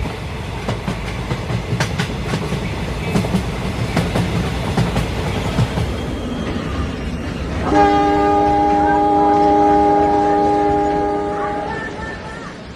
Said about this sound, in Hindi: सुनील की ट्रेन स्टेशन पर रुकी